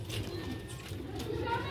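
Old Sialkoti pigeons, a large adult kept with its chicks, give low, throaty cooing close by in short repeated pulses, with a voice talking nearby.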